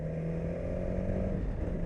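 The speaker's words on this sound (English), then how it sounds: "One is the engine when you rev it" A 2019 BMW S1000 XR motorcycle engine heard from the saddle, a steady low mechanical drone with a held tone, continuous and fairly loud, without a clear rise in revs.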